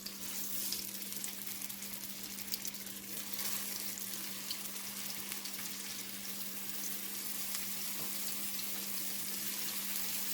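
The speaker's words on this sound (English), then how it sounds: "We're going to go in with a little bit of olive oil. And we're going to start putting those meatballs in." Meatballs fry in olive oil in a hot pan, giving a steady, close, dense sizzle with a constant hum running underneath throughout.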